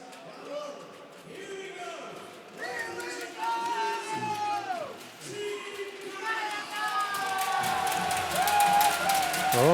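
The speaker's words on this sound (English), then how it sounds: "Oh, good cheer for Team Canada." A hockey crowd at the Spengler Cup in Davos cheers for Team Canada, a broad swelling roar with whoops building toward the end while a commentator talks over it.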